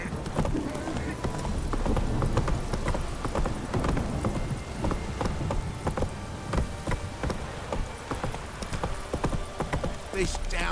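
Roach, Geralt's horse in The Witcher 3, gallops through a downpour, hooves pounding in a fast, steady clip-clop rhythm up close, with rain hissing underneath and a brief vocal sound near the end.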